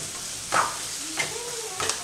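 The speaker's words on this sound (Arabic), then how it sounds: "كنحركوا هاد البصل وغادي نخليه حتى كيدبل" Onion fries in a pan under a soft, steady sizzle, with three brief scraping stirs spaced through a quiet stretch, and no voices.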